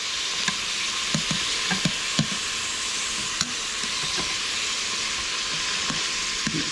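Meat sizzles steadily in a hot pan just after being flipped, a constant bright frying hiss with occasional soft knocks and spatters, close and loud with no talk.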